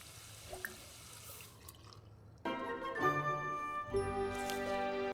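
A sink in a life-simulation survival video game: faint drips at first, then louder running water with bright tinkling tones from the middle onward, continuing to the end.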